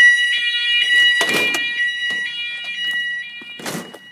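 A fire alarm sounds during a home fire drill, a loud steady high-pitched electronic tone that holds throughout, with a few short noisy bursts of movement or door sounds over it.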